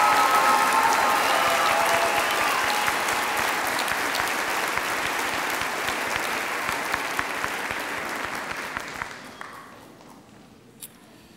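Graduates at a 2015 graduation ceremony are met with sustained clapping from a large audience, dense and even at first, then thinning into scattered claps and fading out toward the end.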